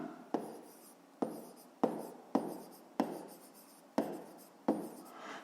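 Pen strokes on paper while writing out a math exercise by hand, heard as seven separate short scratching bursts, each with a sharp start and quick fade, quiet and close with no talk.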